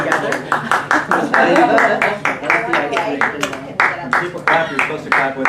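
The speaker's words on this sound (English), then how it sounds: "People clap, you're supposed to clap with them" Rhythmic clapping from people at a Toastmasters club meeting, steady repeated claps running throughout, mixed with voices talking over them.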